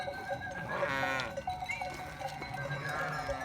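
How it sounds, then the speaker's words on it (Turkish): Several Merino sheep bleat over a busy outdoor din as the flock heads out to pasture, with overlapping calls from the moving flock and faint clanking in the background. "koyunlarımızın meraya çıkış anı"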